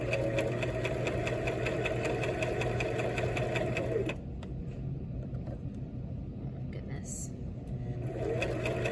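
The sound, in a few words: sewing machine stitching around a pillow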